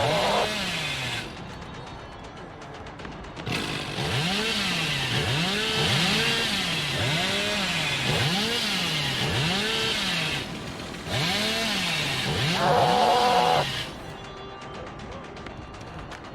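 Hillbilly's chainsaw in a video game revving in repeated rising and falling surges, a loud buzzing engine roar that cuts out and restarts several times, with bursts of other game noise between runs.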